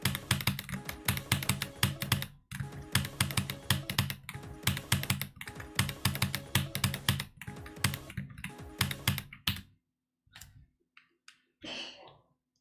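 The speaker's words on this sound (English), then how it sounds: "Otherwise known as the best keyboard for Geometry Dash." Rapid, dense clicking from a Wooting 80HE keyboard during Geometry Dash play, a steady flurry of close keystrokes with brief pauses, then sparse isolated clicks trailing off into near silence.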